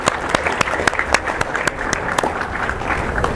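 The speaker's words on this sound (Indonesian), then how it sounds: "Silahkan tepuk tangan untuk kalian." An audience applauds students at a high school academic award ceremony, clapping steadily with sharp individual claps standing out at fairly close range.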